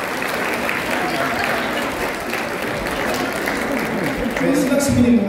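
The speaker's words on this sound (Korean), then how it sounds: "여러분 뜨거운 박수 부탁드립니다." Wedding guests at a hotel ceremony applaud warmly, continuous crowd clapping with faint voices mixed in and a swell in volume toward the end.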